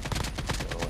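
Rapid burst of gunfire in Call of Duty Mobile, several quick shots in close succession, loud and near, with no speech over it.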